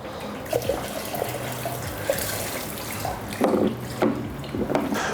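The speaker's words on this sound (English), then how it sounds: "And then I can just empty that water out." Water splashes and gurgles in uneven bursts as it is emptied from the wastewater tank of a Kärcher BR 35/12 C scrubber dryer, with louder gushes near the end and steady background noise throughout.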